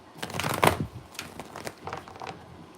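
A deck of cards being shuffled at close range, a quiet burst of riffling flutters followed by a few softer, scattered shuffles and taps.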